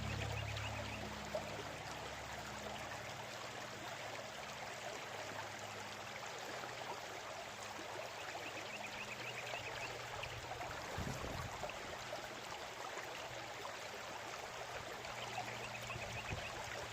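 Water runs steadily through a GoldHog mini sluice outdoors, a faint continuous trickle and wash that holds for the whole stretch, with no one talking.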